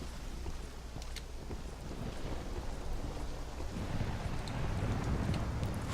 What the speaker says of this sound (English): this is a nasty storm